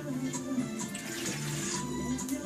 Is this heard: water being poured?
yes